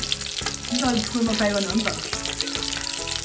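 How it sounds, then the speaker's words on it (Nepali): Sausage frying in a pan, a steady broadband sizzle running throughout while someone speaks over it. "अब एकछिन फ्राई गर्न छोडिदिने"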